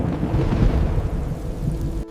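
Thunderstorm with heavy rain starting, a dense, loud roar of rainfall and low rumbling thunder that holds steadily for about two seconds before cutting off abruptly.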